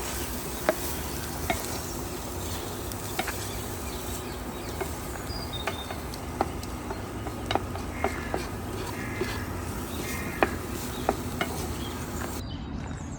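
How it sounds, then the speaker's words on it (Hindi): Prawns with salt are stir-fried in a pan for a Goan kismur, giving a steady soft sizzle throughout with regular light scrapes and taps of the spatula against the pan. "थोड़ा नमक डाल देते हैं और अच्छी तरह से भून लेते हैं फिर से"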